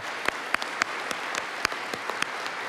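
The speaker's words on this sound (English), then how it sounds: "you deserve our applause" Scattered audience clapping for symposium speakers at a closing session, a thin run of separate hand claps rather than a full ovation, moderately distant and unaccompanied by talk.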